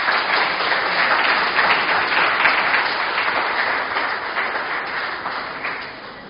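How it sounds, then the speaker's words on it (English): Audience at a startup pitch event bursts into sustained, dense applause, loud and even before slowly tapering off toward the end. "So applause for Kolos."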